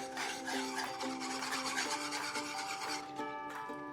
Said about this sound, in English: Now we will mix this with the help of a whisk.